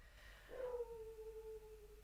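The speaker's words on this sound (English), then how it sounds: "my dog is barking" A dog gives one drawn-out whining howl that starts abruptly and then trails off over a couple of seconds, faint and somewhat distant over a low background hum.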